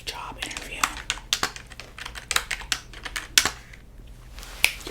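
Fingers type on a computer keyboard in a quiet office setting, giving close, crisp key clicks in quick, irregular bursts with short pauses between them, with no voices heard.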